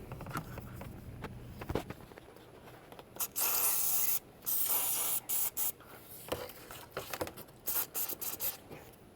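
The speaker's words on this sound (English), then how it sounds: "I'm going to spray some silicone down up in there," Silicone spray is applied around the headlight of a 2010 Jeep Wrangler JK in several short, close hissing bursts, separated by quieter gaps with faint rubbing and handling noises.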